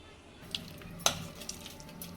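Marinated chicken pieces for chicken 65 sizzle quietly as they go into hot oil, with a low steady fry and a few sharp crackles and pops near the start.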